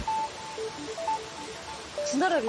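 A mobile phone rings with an incoming call, giving a sequence of short electronic beeping tones followed by a rising chirpy melody, fairly quiet against a soft indoor background.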